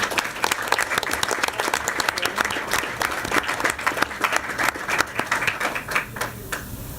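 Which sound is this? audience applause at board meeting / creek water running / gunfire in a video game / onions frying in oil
audience applause at board meeting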